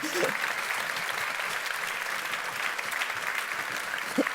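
Lecture audience applauding a speaker at a talk on extreme fatigue and ultra-trail running, a steady, moderately loud patter of many hands, with brief voices at the start and end.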